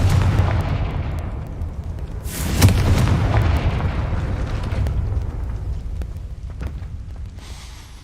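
A Confringo fire spell blasts in a Harry Potter video game: one heavy boom bursts out amid a constant low rumble, then a long crackling, roaring tail trails off.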